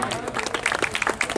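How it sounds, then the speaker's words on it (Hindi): An audience at a Bhojpuri stage program in Buxar bursts into loud, dense applause, quick overlapping claps filling the short stretch. "इस बस्तर के नाम पे एक बार जोरदार ताली बजा दीजिए।"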